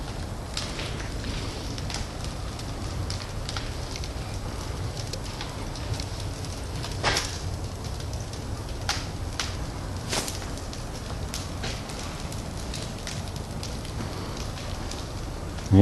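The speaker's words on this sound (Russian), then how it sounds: "Ну вот, разгорается каминчик маленький, высотой 10 метров и весом 20 тонн." A giant fireplace about 10 metres tall and weighing 20 tonnes burns with a steady, dense crackle and roar, with sharp pops and snaps breaking through here and there and no voices.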